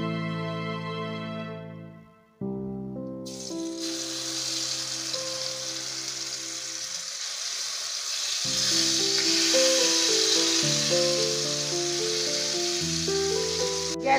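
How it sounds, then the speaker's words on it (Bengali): Spice paste with garlic hits hot oil in a pan for green tomato curry, bursting into a loud, broad sizzle after a quiet lead-in with background music, then frying steadily and growing slightly stronger. "এই পেস্টটি আমি তেলের মধ্যে সরাসরি দিয়ে দেবো।"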